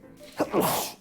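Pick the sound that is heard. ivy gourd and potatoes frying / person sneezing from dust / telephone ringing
person sneezing from dust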